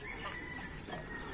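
Chickens clucking on a family homestead, a low steady murmur of fowl sounds filling the short moment without any talk.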